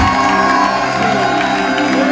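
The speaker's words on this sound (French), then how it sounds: "Le roi des cieux, est-ce qu'on applaudit plus fort?" A large crowd at an evangelistic open-air gathering in Grand-Rivière cheers and whoops loudly and continuously, with scattered applause mixed into a dense, sustained roar.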